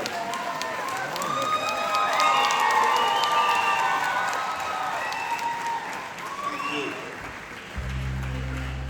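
A large concert crowd in London claps and cheers to welcome singer Vijay Prakash, a sustained roar of applause with shouts rising over it, then easing as a low tone enters at the end.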